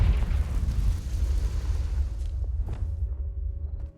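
The Confringo fire spell going off in Hogwarts Legacy, a loud, deep explosive boom with a rumbling whoosh that dies away over a few seconds.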